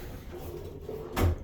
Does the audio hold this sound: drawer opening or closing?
yes